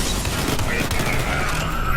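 Sustained rapid automatic gunfire from an M4-style weapon in the Borderlands 3 video game, a dense continuous burst of shots lasting the whole stretch, loud and close, with booming impacts mixed in.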